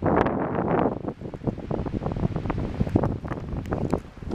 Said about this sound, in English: That wind is really strong.